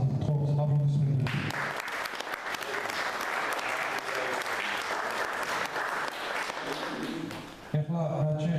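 Sustained audience applause fills a hall at an event honoring people of Georgian art and science, a dense, loud clatter of clapping lasting several seconds, bracketed by brief speech at the start and end.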